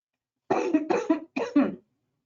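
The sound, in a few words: cough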